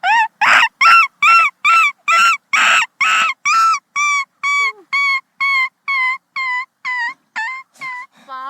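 A mimicry artist's voice imitates a puppy yelping and crying as its ear is pulled, a long rhythmic series of loud, close, high whimpering cries that grow thinner and more plaintive toward the end.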